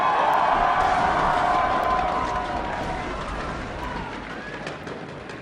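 Crowd cheering for the player Xpecial at the IPL4 upper bracket finals esports match between TSM and Dignitas, a broad, sustained roar of voices that fades slowly over several seconds.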